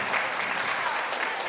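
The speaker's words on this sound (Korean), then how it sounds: "박수" A short burst of dense applause from a crowd at a busking event, steady and fairly loud throughout.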